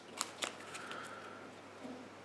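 A deck of game cards, shuffled by hand for a Grimslingers tabletop game: a few sharp riffling snaps at the start, then a soft ongoing rustle, close and quiet.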